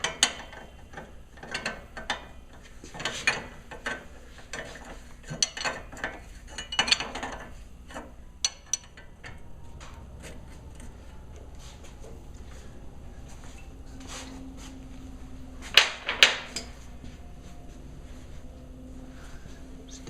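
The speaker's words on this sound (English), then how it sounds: "I'm tightening up the lower ball joint now." Hand ratchet clicking in short bursts as the lower ball joint nuts are tightened on a 1998 GMC K1500 front suspension, with intermittent metallic clicks and ratcheting strokes close by over a low background hum.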